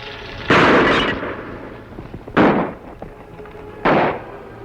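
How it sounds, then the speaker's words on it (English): Three loud, sharp pistol shots in an old-time radio Western showdown ring out about two seconds apart, each a close, booming crack with a short echoing tail, and no voices between them. "Pistol shots, Kimasabi."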